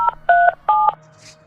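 Telephone keypad tones beep three times in a quick, loud, clean sequence as a number is dialed to place a call.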